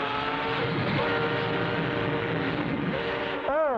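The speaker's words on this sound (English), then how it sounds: "A train in the tunnel." A cartoon train rumbles steadily through a tunnel with a sustained roar and horn-like tones, ending in a swooping whistle; the noise stays loud throughout, without any talk over it.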